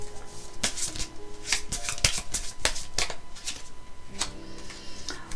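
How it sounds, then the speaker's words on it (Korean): Tarot cards are shuffled and drawn during a reading, giving a run of crisp slaps and riffling flicks. The card sounds come in irregular bursts, close and clear, with no voice in between. "제가 추가 카드를 조금 더 뽑아볼게요"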